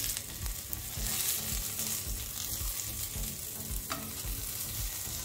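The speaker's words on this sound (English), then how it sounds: "We're done frying our onions," Onions sizzle and fry in a pan with busy, continuous crackling and occasional stirring scrapes, close and fairly loud.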